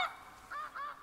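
Snow geese in The Hunter Classic video game honk in a series of three nasal calls, fairly clear and moderately near, with quiet gaps between them.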